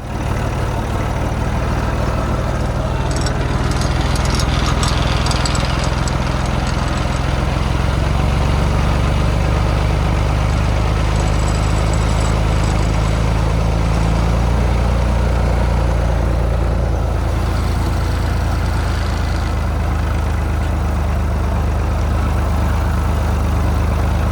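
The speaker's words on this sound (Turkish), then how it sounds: "traktörü çalıştırınca şöyle kısa bir tur atıyorum." A Massey Ferguson 135 tractor engine runs steadily at close range with a loud, deep, continuous diesel drone and low rumble that varies slightly in pitch as it works, with no voices over it.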